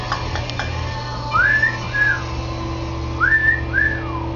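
A pet bird gives two pairs of bright, rising-and-falling whistles on command, clear over a quiet room hum.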